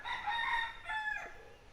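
A rooster crows once at a rural monsoon getaway in Baranti, Purulia, giving a full, clear cock-a-doodle-doo that rises and trails off over about two seconds, moderately close, with no talking.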